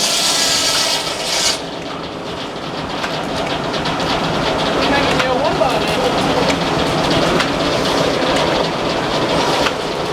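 A Frick sawmill carriage running at a steam show: loud continuous rattling, clanking and rumbling machinery, close by, with voices talking over it.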